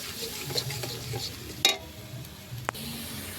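Turmeric, coriander and cumin stir-fried with tilapia in a pan over a wood-fired stove: a soft steady sizzle with a few scraping spatula strokes, close and fairly quiet.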